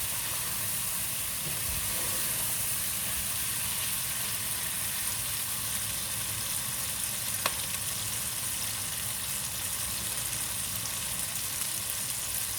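Masala sizzles steadily in a pan over a medium flame while being cooked for palak chicken curry. The hiss is close and continuous, with one brief sharp tick partway through and no voices.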